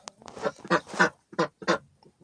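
A duck quacks close by in a farmyard, a run of about six loud, raspy quacks in quick uneven bursts with short gaps between them.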